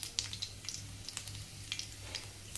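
Cumin seeds sizzle in hot oil alongside peanuts in a pan, a soft continuous fry with scattered crisp pops and crackles throughout.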